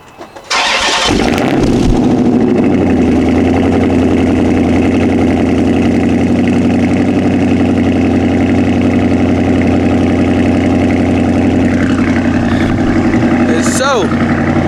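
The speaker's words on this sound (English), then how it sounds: "I'm gonna set y'all up and let y'all get a cold start." An SRT car engine cold starts after sitting for about three days, cranking briefly, then catching and settling into a loud, steady, rumbling idle held close up for over ten seconds.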